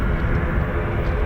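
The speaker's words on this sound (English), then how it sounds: "that was the C-295 Casa, C-295 of the Czech Air Force." A Czech Air Force CASA C-295 twin-turboprop transport passes at an air show, giving a steady, broadband engine roar that stays loud and even throughout the short moment, with no talk.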